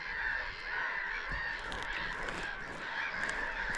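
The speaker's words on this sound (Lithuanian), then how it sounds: "Nu, va, ančiukai plaukia antis." Ducks call from open water at a lakeside holiday spot, a continuous murmur of honking, quacking calls heard from a moderate distance against a steady outdoor background.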